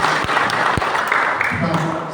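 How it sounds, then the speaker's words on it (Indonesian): Audience applause at a community gathering in Karimun, dense clapping throughout with a couple of sharp louder claps near the start and faint talk beneath. "Tepuk tangan untuk"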